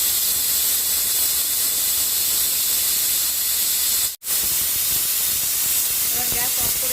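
A pressure cooker on a gas stove hisses steadily with released steam while mutton cooks, a loud continuous rush broken by one brief gap, with faint clatter near the end.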